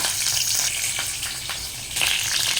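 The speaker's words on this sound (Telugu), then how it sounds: "ఆయిల్లో వేసుకుందాం ఇప్పుడు మనం పచ్చిమిర్చి కూడా వేసుకున్నాం" Sliced green chillies fry in hot oil for a brinjal chutney, giving a loud, steady sizzle with brief surges of crackle and hiss.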